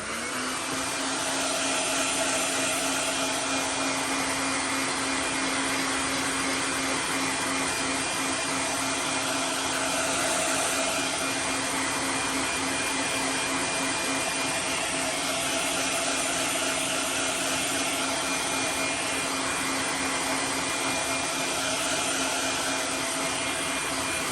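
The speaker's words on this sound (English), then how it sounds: "I brought my dryer over here closer to me." A hair dryer blows steadily and loudly at close range to heat-set paint on a fishing lure, a constant whooshing hum with no breaks and no voices.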